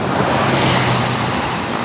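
A bus on the Sibolga–Pekanbaru route accelerating hard along a highway at night, a dense continuous roar of engine and road noise with wind rush, loud and steady throughout.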